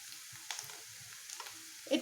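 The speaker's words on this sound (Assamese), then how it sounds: "পিঁয়াজখিনি আমি ভালদৰে এনেদৰে সলাই ভাজি ল'ম" Chopped onions being turned and fried in hot oil, a low continuous sizzle broken by soft scraping stirs and small crackles, ending on a louder knock of the utensil.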